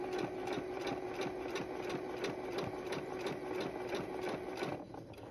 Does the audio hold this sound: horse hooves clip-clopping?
no